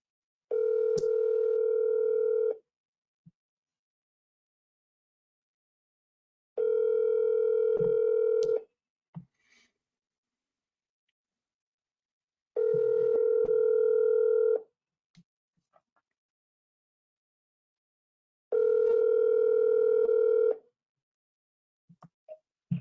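A telephone dial tone plays over a line during a commercial real estate cold call, four long steady tones of about two seconds each separated by silent gaps, loud and close, with faint clicks between them.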